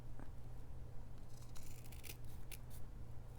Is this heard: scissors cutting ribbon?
yes